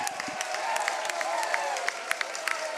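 Scattered clapping and cheering from the Germany bench after the first try of a Rugby World Cup repechage match against Hong Kong, moderately loud and spread across the whole moment, with crowd noise underneath.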